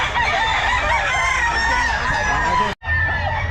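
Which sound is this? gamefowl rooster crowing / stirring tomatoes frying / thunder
gamefowl rooster crowing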